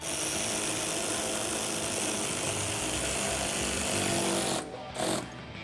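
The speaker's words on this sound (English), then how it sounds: "we have one last bolt down at the bottom that we can tighten up with an 8mm socket" A power tool tightening the bottom fender flare bolt on a 2016-2021 Toyota Tacoma with an 8mm socket: a loud, continuous whirring drone for about four and a half seconds, then cutting off with a brief final burst.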